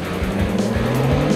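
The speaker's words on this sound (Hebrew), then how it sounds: "פול גז על ההתחלה, אין פחד" A car launching at full throttle from a race start on a damp track, a loud, close engine roar with a rising tone and a hint of tire squeal, brief and without talk.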